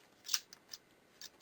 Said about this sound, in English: you're going to take your scissors and just go right down and cut